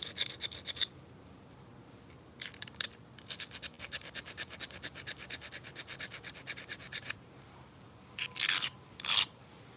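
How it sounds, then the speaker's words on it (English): Quartzite flake edge being ground on an abrader during flint knapping, close rapid rasping scrapes in bursts with a long steady rhythmic stretch in the middle, no talking. "So you just hold it up there and give it a nice grind."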